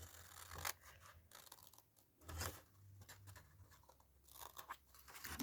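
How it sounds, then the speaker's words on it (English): Scissors snipping through a fabric pocket piece, a few quiet, close crunchy cuts separated by pauses, no talk. "And I'm going to cut that one as well."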